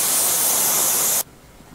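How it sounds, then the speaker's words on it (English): Cryosculpting device releasing a steady, loud hiss of cold gas spray that cuts off abruptly after about a second, leaving quiet background. "After we've done the sprays on the Cryosculpting"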